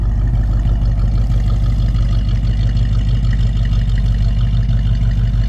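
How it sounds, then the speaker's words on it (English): A 1972 Mustang convertible idles loudly and steadily through its dual exhaust, a deep, even rumble with no revving. "dual exhaust, sounds good"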